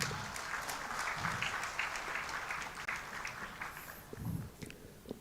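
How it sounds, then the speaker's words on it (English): Applause from a conference audience at an applied science event, a steady wash of clapping lasting the whole stretch, moderately distant and fairly soft, with a few louder claps near the end. "Please give a big round applause again."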